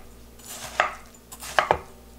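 Knife slicing through a watermelon, a few crisp cutting crunches and chops on a board, one single then a quick pair close together, close and fairly loud with no talk.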